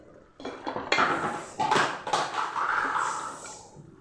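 A spoon clatters and scrapes around a metal pot while gongura mutton curry with coriander and curry leaves is stirred, giving a burst of close clinks and knocks, louder and then settling, with no talk.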